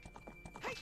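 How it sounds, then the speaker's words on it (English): Epona, the horse in Zelda: Ocarina of Time, clops with rhythmic hoofbeats and then gives a brief high whinny, played at moderate level over faint game background sound. "Stupid horse."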